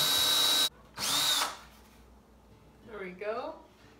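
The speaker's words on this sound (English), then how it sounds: "drill all the way through." A power drill whines loudly in two bursts while drilling through wood, the first longer, then cuts off, followed by a brief voice speaking.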